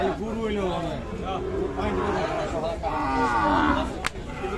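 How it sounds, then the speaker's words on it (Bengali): A calf, a Sahiwal bull calf at the Kaharol rural cattle market, moos in a long, loud low call that runs through the clip, with crowd chatter and bargaining voices all around it. "সামনে দেখছেন আপনারা একটা বাছুর"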